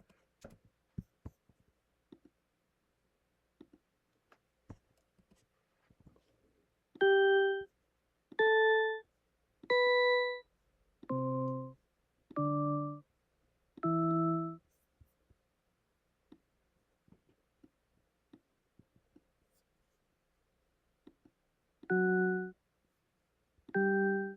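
Separate electronic keyboard notes ring out in a slow sequence, each a clean sustained tone, some higher and some lower, with quiet gaps and faint clicks between.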